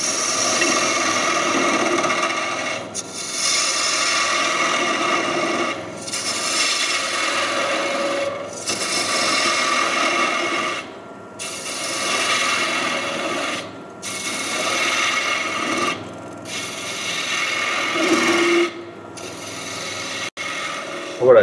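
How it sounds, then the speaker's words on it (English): A lathe turning tool cutting wood for a spinning top, a rasping, scraping cut in repeated passes of a few seconds each, separated by brief pauses, close and without talk. "Just pause until the tool cuts through that material."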